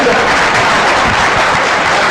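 An audience at a Hindi poetry recitation claps continuously, a dense, loud and even wash of applause that fills the hall without a break.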